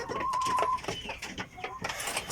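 Native shamo chickens cluck softly in a short burst, several brief clucks in quick succession at moderate distance, with a thin steady tone in the background and no talking.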